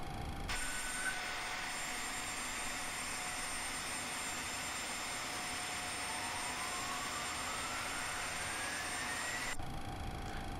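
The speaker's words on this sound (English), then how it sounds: "we're gonna start both our engines now" A Boeing 737 jet engine spools up during start in the X-Plane 11 flight simulator, a steady whine and whoosh that holds at a constant level, faint and without speech.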